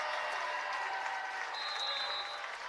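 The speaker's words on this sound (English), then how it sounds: "Paul Johnson will get a round of applause for him in his senior season." A crowd applauds a senior player at a men's college basketball game, with a dense, steady wash of clapping throughout and a sharp whistle or squeak partway through.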